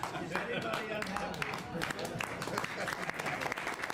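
Audience applause at a roundtable attended by Trump, steady dense clapping from a crowd throughout, with some voices mixed in underneath.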